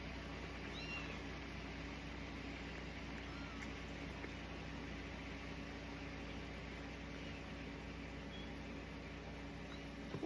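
An all-orange cat named Leo meows while being fed first among the kittens, the calls faint and thin over a steady, noisy background hum with no talking.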